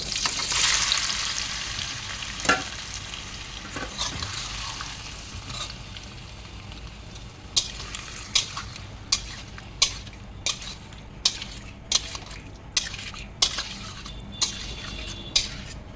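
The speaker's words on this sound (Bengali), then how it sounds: "এবার সোমবারে শুকনো লঙ্কা, তেজপাতা, গোটা জিরে দিয়ে দিলাম। এবার পনিরটা দিয়ে দেবো।" Paneer fries in a pan with dried red chilli, bay leaf and whole cumin, a close steady sizzle that softens, then a spatula taps and scrapes the pan in a regular series of sharp metallic knocks.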